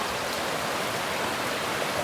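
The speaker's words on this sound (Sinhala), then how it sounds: "ඔන්න දියැල්ල" A waterfall roars up close as a loud, continuous rush of falling water, steady and unbroken, with no voices.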